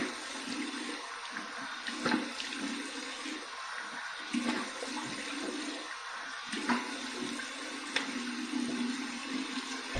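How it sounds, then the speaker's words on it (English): Cold water runs from a tap for a shaving rinse, a steady broadband splashing rush with small irregular splashes, close and continuous, no speech. "here's my cold water rinse."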